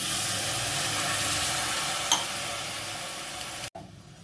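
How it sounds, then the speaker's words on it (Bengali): Jaggery melts with a little water in a wok, giving a soft, steady bubbling sizzle and hiss, with a brief clink near the middle before an abrupt cut to near silence. "গুড়টা আমি কড়াইতে দিয়ে অল্প সামান্য জল দিয়ে এবার"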